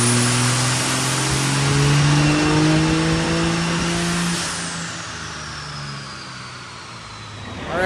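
Diesel truck with a VP44 injection pump and a 67/70 turbo revs hard under load on a dyno near 45 psi of boost, a loud sustained engine roar with rising and falling pitch that eases off toward the end.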